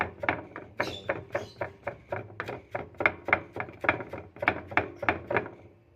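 A knife finely chops onion for dinakdakan on a board, making a quick, steady run of close, crisp taps, roughly three to four a second, with no talking.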